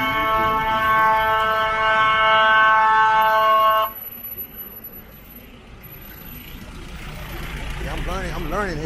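Ambulance siren wailing loudly on a busy Port-au-Prince street in Haiti, a steady harmonic tone that cuts off abruptly partway through, leaving traffic noise and distant sirens behind.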